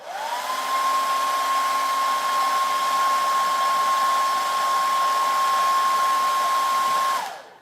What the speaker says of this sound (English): And then blow dry it with high heat.